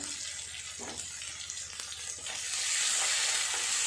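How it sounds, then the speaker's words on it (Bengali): Ground spices sizzle as they are sautéed in a hot pan for a chana dal, a steady frying hiss with occasional stirring scrapes that swells louder toward the end. "খুব ভালো করে মশলাটা এভাবে একটু কষিয়ে নেব"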